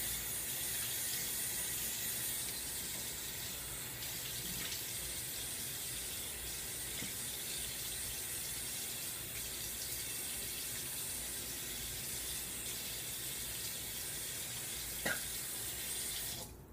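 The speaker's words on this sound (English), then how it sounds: "Let me rinse off my face right now." Running tap water pours steadily into a sink for the whole stretch while a man rinses his face during a double edge razor shave, a constant near hiss with a faint click near the end.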